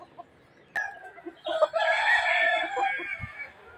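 A brood cock rooster crows once, close and fairly loud, a drawn-out call that rises and trails off after a few short clucks and a sharp knock, with no talk.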